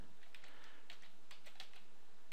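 Command being typed on a computer keyboard: a quick run of close, light key clicks with uneven spacing and a few sharper taps, with no talking.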